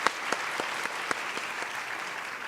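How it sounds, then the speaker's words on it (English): Audience applause at a public forum welcoming the governor of Tokyo to the stage, a steady wash of clapping with a few sharper individual claps standing out, no voices over it. "welcome Ms. Koike, the governor of Tokyo, with a big round of applause, please."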